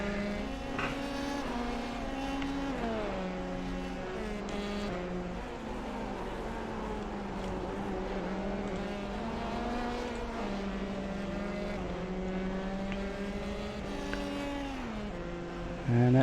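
Formula 3 race cars in the Simucube sim racing championship at Montreal, engines droning steadily with shifting pitch as the cars circulate in close company, a lapped car closing from behind.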